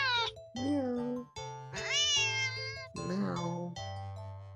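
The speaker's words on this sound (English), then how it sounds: "the cat meows sharply at you and dashes off" Repeated sharp meows from a cat in an indie itch.io video game, several separate cries in quick succession, loud and close with a slight electronic game-sound quality.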